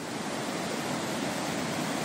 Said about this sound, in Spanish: al borde de esta ribera de río